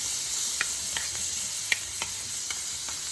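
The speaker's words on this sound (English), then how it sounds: "we're gonna add in our bacon and we're gonna just bring it together for a few minutes until they're nice and crispy" Bacon frying in oil in a pan gives a steady bright sizzle, with a few soft stirring scrapes and pops scattered through it.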